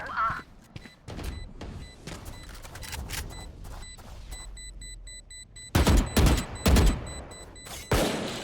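Gunfire erupts in the Phoenix Haven video game as scattered shots and then rapid clustered volleys, sharp and punchy, with quieter gaps between the bursts.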